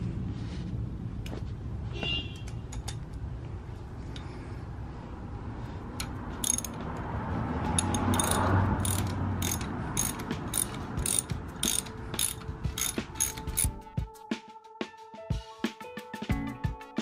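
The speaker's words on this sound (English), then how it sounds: "It's four bolts. Just gonna loosen them all." Ratchet wrench loosening four bolts on a Honda Super Cub C125 motorcycle: steady clicking pawl bursts across the middle and a rapid run of sharp clicks near the end, close and fairly quiet.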